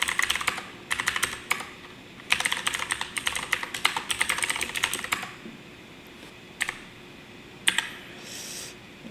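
Someone types on a computer keyboard, rapid bursts of clicking keystrokes close by, then a few scattered single key presses after a pause.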